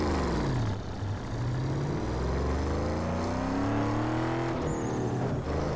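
A turbo Cadillac Escalade engine roars and revs continuously while drifting in Need for Speed: Underground 2, its pitch climbing and falling through the gears, loud and close with a synthetic game-like tone.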